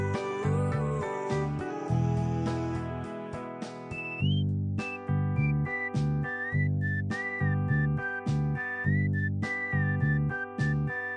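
Whistling carries the melody of a late-1960s song, a clear, bright whistled tune over steady guitar, bass and drums, phrase after phrase repeating.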